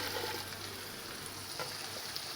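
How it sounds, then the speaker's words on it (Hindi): Water is poured from a jug into mutton curry frying with ground onion paste for dhaniya gosht salan, giving a steady close hiss and sizzle that lasts throughout without any speech. "इसी जग के अंदर हम पानी ऐड करेंगे"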